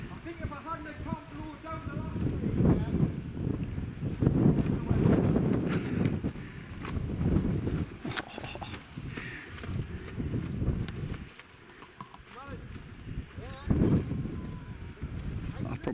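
Wind gusts buffet the microphone at a wild camp on a Northumberland hillside, a steady low rumble rising and falling in strong surges, with a person talking over it.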